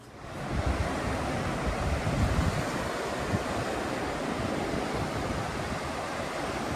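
Ocean surf on a beach, a broad, continuous wash of waves and rushing water heard from a distance, steady and fairly soft, with no voices over it.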